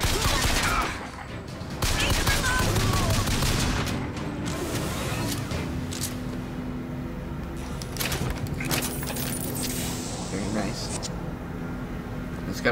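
Rapid machine gun bursts rattle through a Bioshock Infinite firefight, dense and loud, with booms and layered shots, while a player talks over the action.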